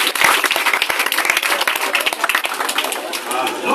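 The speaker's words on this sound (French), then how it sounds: "Voilà, vos acclamations pour nos élèves." Classroom audience applauding students after their computer presentation, a dense, steady burst of many hands clapping close by for the whole stretch, with no voices over it.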